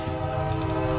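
Passing train sounding its horn, a steady sustained horn tone over a low rumble of the rail cars, loud and near, with no talking.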